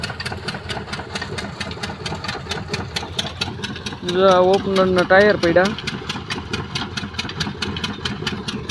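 A tractor engine runs steadily in a groundnut threshing field near a Kisan thresher, with a regular, even chugging throughout. Someone talks loudly over it in the middle.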